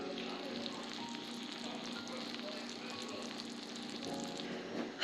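A stuffed pumpkin sizzles quietly in a pan, giving a faint, steady hiss with soft crackling throughout and no voices.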